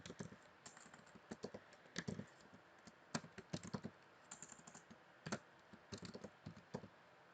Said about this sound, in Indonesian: Saya langsung saja mengetik perintah if